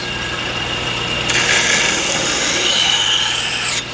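A steel knife blade ground on a jig, a loud, steady abrasive rasp that comes in strongly partway through and holds evenly for a few seconds, over constant machine noise, then cuts back.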